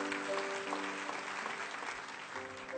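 A church congregation claps together in a steady, fairly quiet wash of applause with a faint background hum and no talking.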